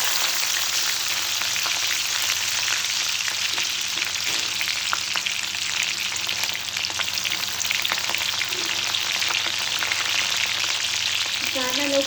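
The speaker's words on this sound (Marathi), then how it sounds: "तेल आपलं कडकडीत तापले त्यामध्ये कांदा टाकला" Chopped onion frying in smoking-hot oil for tomato chutney, a steady, close, dense sizzle and crackle running without a break, with faint stirring scrapes toward the end and no talking.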